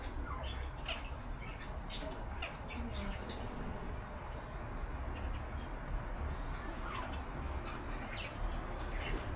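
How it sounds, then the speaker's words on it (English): Tropical birds in a zoo aviary on a bird island, with scattered squawks and calls rising over steady background noise throughout. "They have all sorts of tropical birds in here as well."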